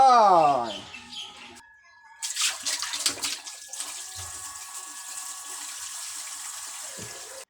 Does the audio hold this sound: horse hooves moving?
no